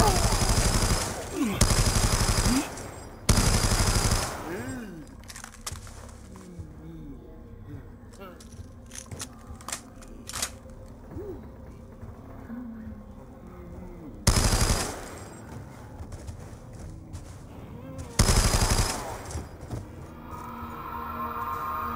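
Black Ops 2 Zombies gunfire on the Buried map, several loud bursts of rapid automatic fire separated by quieter stretches of game sounds and a voice speaking.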